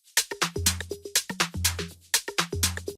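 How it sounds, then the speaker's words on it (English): A short percussion loop of bright hi-hats, claps and shaker hits with tonal percussive blips, played crisp and rhythmic, quiet in level. "we have this top loop from one of my packs"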